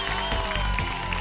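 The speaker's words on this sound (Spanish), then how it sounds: "Un fuerte aplauso para Matías Verdú" Studio audience on the Pasapalabra game show applauding the champion contestant, a steady wash of clapping over music with a faint voice underneath.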